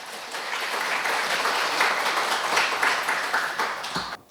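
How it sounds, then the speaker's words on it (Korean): A conference audience gives welcoming applause to a backend engineer about to present at a monitoring event, a dense, even burst of many hands clapping that holds steady for around four seconds and then cuts off. "여러분 환영의 박수로 맞이해 주시기 바랍니다"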